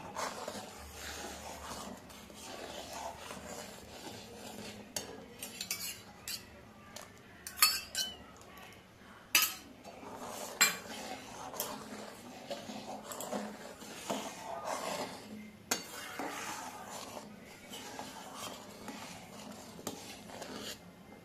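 Milk in a pot being stirred while vinegar is added a little at a time to curdle it for rasgulla chhena. Scattered metallic clinks and scrapes of a spoon against the pot run through a quiet, fairly long stretch.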